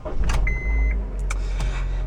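A Honda car's key-in warning chime sounds inside the cabin: a clear, steady electronic ding held briefly, followed by faint clicks over a low background rumble, close and moderately loud.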